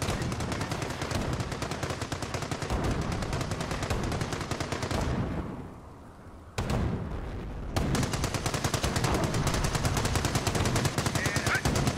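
Rapid machine-gun fire in the Company of Heroes video game, aimed at enemy armor. It rattles loudly and continuously, breaks off briefly in the middle, then resumes even heavier.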